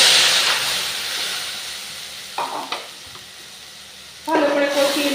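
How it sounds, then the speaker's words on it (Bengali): Spices with turmeric fry in a pan with a bright sizzling hiss that fades, then a few stirring scrapes, and a loud fresh burst of sizzle near the end. "ভালো করে কষিয়ে নেব মশলাটা।"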